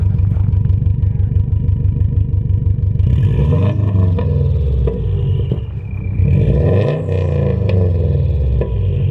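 A Subaru boxer engine idles with a throbbing, lumpy rhythm, then revs up and settles a couple of times, loud and close, at an outdoor car club meet.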